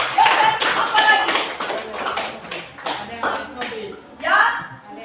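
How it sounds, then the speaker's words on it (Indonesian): Scattered clapping from a group of children in a classroom, uneven bursts mixed with speaking voices and some taps and thumps. "tepuk tangan untuk Gelis"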